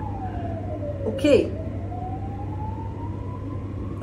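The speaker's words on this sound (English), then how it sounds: "Like there's a siren every 5 minutes or something" A city emergency vehicle siren wails in the distance, its pitch sweeping down then slowly rising, over steady traffic hum and background noise, with a brief spoken word in the middle.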